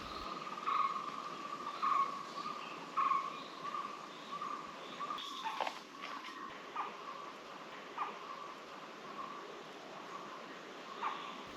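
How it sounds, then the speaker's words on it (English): Repeated bird calls ring out over a constant hiss of insects, several clear notes early on, then fainter calls at intervals. "the barbet calls kept a constant company during the trek"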